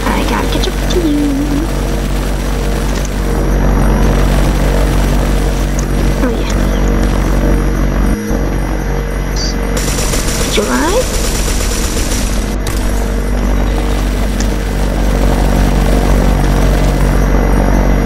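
An airplane flies in the video game Mad City, its steady engine drone running loud and unbroken through the whole stretch, mixed with other game noise.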